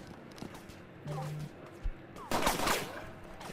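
Gunfire in a Roblox game, with a sharp single report and then a dense burst of rapid shots late in the clip, mixed with other in-game noises at moderate loudness.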